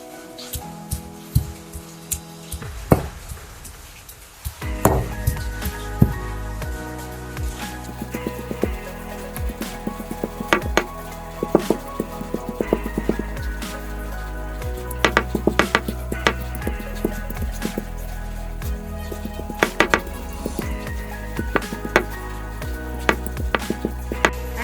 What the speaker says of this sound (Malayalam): ബീഫെല്ലാം ചതച്ചെടുത്തിട്ടുണ്ട്